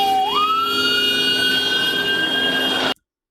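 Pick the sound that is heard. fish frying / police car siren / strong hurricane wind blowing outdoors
police car siren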